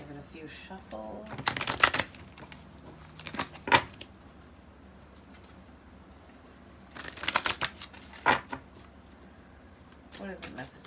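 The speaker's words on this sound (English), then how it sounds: "Give it a few shuffles." A deck of tarot cards is shuffled in several quick riffling bursts, close and fairly soft, with pauses between the shuffles.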